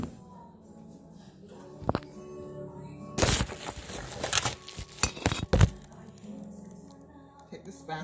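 A spatula scraping and pushing food into a bowl while cooking, a burst of close scraping, crackling and wet squishing strokes in the middle, quieter clicks before and after, with a voice speaking faintly.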